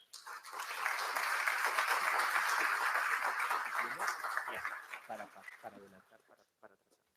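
Audience applause greeting a speaker at a legal lecture on civil claims in criminal proceedings: a dense, steady burst of clapping that swells quickly, holds for several seconds, then thins out into scattered claps and fades.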